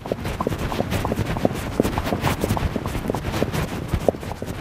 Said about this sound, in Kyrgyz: жубайы экөө өзү таптаган аттарды минип, айыл аралап калат